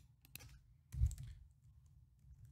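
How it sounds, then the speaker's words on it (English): A computer keyboard being typed on, a few faint quick clicks followed by a slightly louder cluster of keystrokes in a quiet room. "I could type it in the command console"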